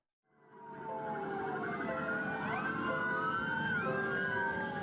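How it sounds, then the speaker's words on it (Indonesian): Many ambulance sirens wail together in a funeral procession at a cemetery in Kebon Jeruk, West Jakarta, their overlapping rising and falling tones forming a loud, continuous chorus against traffic noise. "Puluhan mobil ambulans mengiringi jenazah Ahmad Zaki saat dimakamkan di TPU Sukabumi Selatan, Kebonjeruk, Jakarta Barat."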